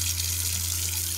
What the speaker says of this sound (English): We'll turn on the hot water and